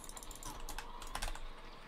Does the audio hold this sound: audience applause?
no